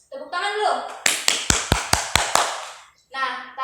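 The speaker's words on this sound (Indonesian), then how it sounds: "Tepuk tangan dulu." Pupils in a primary school classroom clap hands in a rhythmic group pattern of about eight sharp, even claps, with children's voices chanting before and after.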